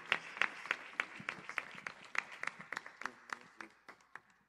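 Sparse, faint applause from a church congregation, with scattered individual claps falling in a loose rhythm and a few voices underneath.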